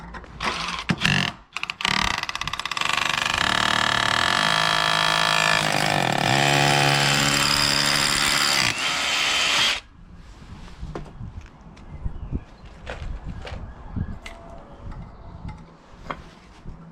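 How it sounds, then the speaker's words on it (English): A power drill bores holes to anchor a wooden pergola to the floor, its loud motor whine running steadily for about eight seconds before cutting off, followed by quieter scattered knocks and handling sounds. "we're just drilling some holes to secure it to the floor, anchor it to the floor"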